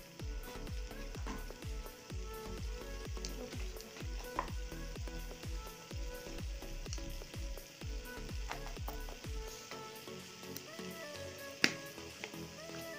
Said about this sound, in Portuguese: Deixa fritar, né? A gente vai secando a aguinha que tem neles.